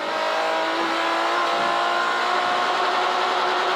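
A race car at a CSCC Castle Combe Slicks and New Millennium Series meeting holds a steady, loud, buzzing engine note at high revs for several seconds, the tone barely shifting as it sits hard against the limiter.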